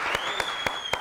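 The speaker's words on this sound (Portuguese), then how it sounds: "As palmas pro Talento Elétrico." Audience applause on a TV music show: a brief burst of crisp, evenly spaced claps over a noisy crowd bed, lasting about a second.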